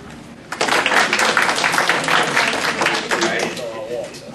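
A lecture-hall audience breaks into applause after a quieter start, a dense, loud wash of clapping that holds steady for several seconds, with some voices underneath.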